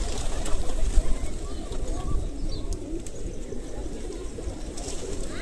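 Pigeons coo repeatedly in the open grounds of Pashupatinath temple in Kathmandu, soft throaty calls layered over a busy outdoor murmur of crowd noise and scattered chirps.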